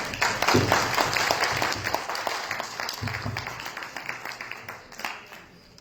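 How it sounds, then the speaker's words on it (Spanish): Applause from an audience at a book presentation at a university in El Alto, Bolivia, brisk rhythmic clapping from a modest crowd, fairly close, tapering slightly toward the end. "Unos fuertes aplausos, por favor."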